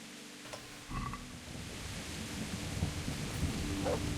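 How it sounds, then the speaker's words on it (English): Rain pattering steadily in the video game Kingdom Come Deliverance, with a low rumble of thunder beneath it, a constant soft wash of noise that swells slightly as it goes on. "I can't see crap in this rain"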